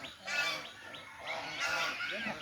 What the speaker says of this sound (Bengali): সারি সারি হাঁসের পাল দেখতে পাচ্ছেন